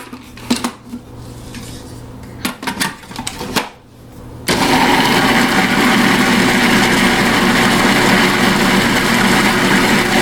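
A blender starts up and runs loud and steady, blending frozen strawberry and banana chunks into vegan nice cream, after a few seconds of clattering and tapping from handling the jar.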